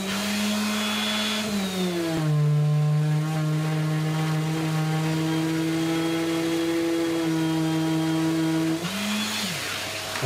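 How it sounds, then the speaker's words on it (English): A Mirka orbital sander whirs at full speed on a wooden workpiece, a steady loud motor hum with a pitch that drops as the pad meets the surface and rises again near the end as it lifts off. "Just have a quick look at what the orbital sander will do for us."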